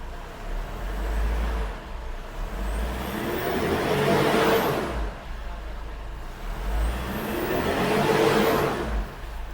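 A Ford Everest engine revving in two rising swells, each climbing to a peak and easing back over a steady idle, loud and close with no talking.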